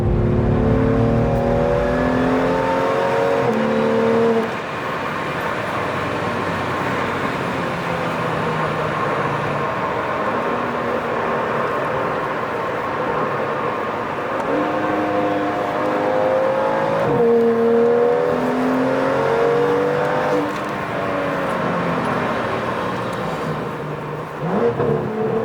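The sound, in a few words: BMW M2 F87 N55 engine revving with clubsport exhaust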